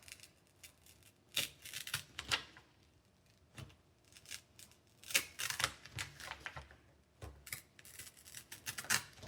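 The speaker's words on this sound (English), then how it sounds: "Gentle pressure to rip the fibers right where I have weakened it." Paper being gently torn by hand along a pre-weakened fold while folding a flapping paper crane, heard as several soft, crisp ripping bursts with quiet rustling between them, close and alone.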